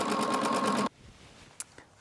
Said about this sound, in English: Chain piece and just a nice 1/4 inch seam.